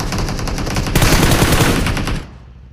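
A rapid burst of automatic gunfire in the video game PUBG, loud and close, with a harsh continuous rattle that cuts off abruptly after about two seconds.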